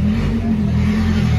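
McLaren sports car engine revving, a loud, close, steady droning tone with strong low harmonics, brief and continuous, with no voices over it.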